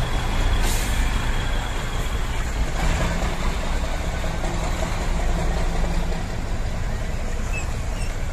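Heavy trucks rumble past on a busy road by Don Antonio Village in Balintawak, a steady loud roar of engines and traffic with a brief hiss like an air brake near the start.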